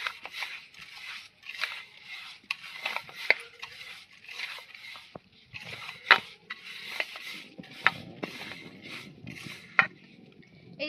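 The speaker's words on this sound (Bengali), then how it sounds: "আর এটা কিন্তু কোনো রকম জল দিয়ে মাখাবো না, শুধু তেল দিয়েই।" Oil being rubbed by hand into a crumbly dough of flour, semolina and cornflour, with close, soft repeated scraping and crumbling strokes and occasional sharp clicks against the bowl, steady throughout without talk.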